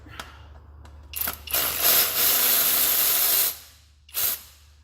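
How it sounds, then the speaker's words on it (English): Ratchet wrench loosening a bolt during 3.5 EcoBoost engine removal on a two-wheel-drive Ford F-150, a sustained loud rapid clicking run of about two seconds followed by one shorter burst, close up with no talking. "I'm gonna put the ratchet on there and let it do the work."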